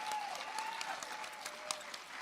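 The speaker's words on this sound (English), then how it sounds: "You can go ahead up and stand up and clap for Jim Lamon." Steady applause and clapping fill the room at a political rally for an Arizona candidate, with a dense crowd clapping close and sustained throughout and no clear talk over it.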